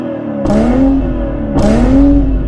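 A BMW M240i engine with its stock exhaust, valves fully open, revs twice in quick succession, each rising roar climbing in pitch and then easing off, loud and close against a steady low rumble.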